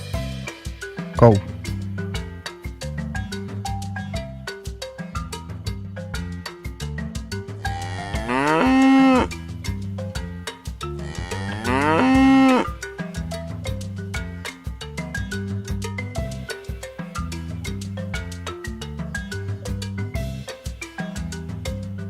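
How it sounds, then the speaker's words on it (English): A cow moos twice in long, loud calls about four seconds apart, set over a steady looping rhythmic music track in an animal-name learning clip for kids. "Cow."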